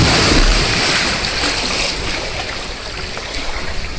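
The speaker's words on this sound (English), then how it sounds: "I hear lots of water sloshing ahead." Water sloshes and washes in a hollow, echoing sea cave, a broad rushing swell that ebbs and surges.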